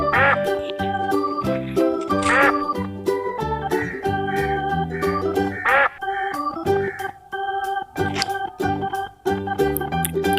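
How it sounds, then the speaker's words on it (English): Repeated duck quacks sound close and clear over a bouncy children's music track, coming in short bursts throughout. "duck"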